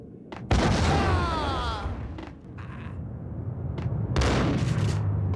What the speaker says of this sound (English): They got a shotgun